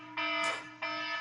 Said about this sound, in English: Okay, whew, that was my alarm.